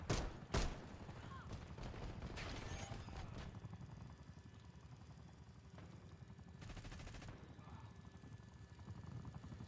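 A Watchdog helicopter in Black Ops 6 gives off a faint, steady rotor drone, broken by a few sharp bursts of gunfire near the start and a rattling volley midway.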